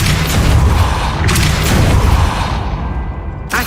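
A Depulso spell cast in Hogwarts Legacy lands as a loud, booming blast that rolls on for several seconds, with whooshing swells of magic and a final sharp burst at the end.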